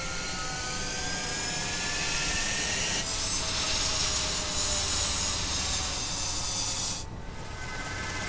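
Jet fighters taking off from a runway in Ace Combat 7, a sustained loud roaring hiss of engines that swells midway and then drops off sharply near the end, with no talk.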